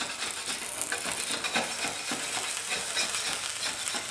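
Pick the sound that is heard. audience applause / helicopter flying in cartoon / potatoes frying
potatoes frying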